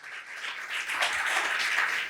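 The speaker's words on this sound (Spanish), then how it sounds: "dale un aplauso al Señor" A church congregation applauds together during a Spanish-language sermon, producing a steady, dense wash of clapping that holds at an even level with no voices over it.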